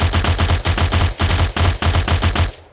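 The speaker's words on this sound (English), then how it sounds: "And then for tier 3, we have a heavy SMG." Heavy SMG in 7 Days to Die fires in rapid sustained automatic bursts, loud and close, with brief pauses between strings of shots and no talking.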